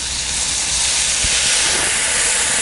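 Tamarind water poured into a hot pan while cooking rice dishes, giving a loud, steady broadband sizzle and hiss that holds through the whole moment without talk.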